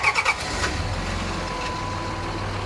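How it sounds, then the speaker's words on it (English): A 1965 Dodge D200 pickup truck engine cranking with a few rhythmic starter turns, then catching and settling into a steady, close rumbling idle. "why don't you fire it up?"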